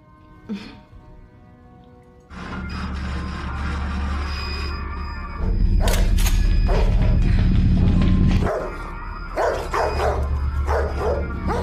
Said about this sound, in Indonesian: anjing mereka menggonggong dengan keras ke arah luar